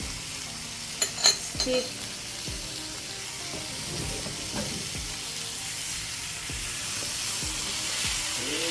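Steak sizzles in melted butter in a pan with a steady frying hiss throughout, a few utensil clinks and scrapes near the start, and a brief spoken word in the middle.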